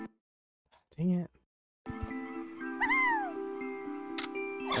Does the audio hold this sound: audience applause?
no